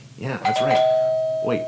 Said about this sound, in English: Ooh, that's the doorbell. The doorbell that started it all.